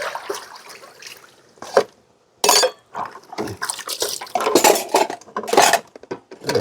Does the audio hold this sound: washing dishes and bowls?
yes